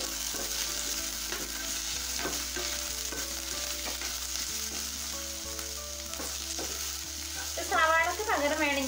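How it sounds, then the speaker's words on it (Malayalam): Chopped ivy gourd for a Kerala stir-fry sizzles in a pan with chili and coriander powder, a steady frying hiss under repeated rhythmic scrapes and taps of a spoon, with a brief clatter near the end. "മുളക് പൊടി, ഇത്തിരി മല്ലിപ്പൊടി ഇവ ചേർത്ത് നന്നായിട്ട് ഇതിനെ ഒന്ന് മിക്സ് ചെയ്തെടുക്കാം"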